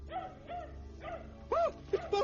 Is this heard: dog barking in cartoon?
yes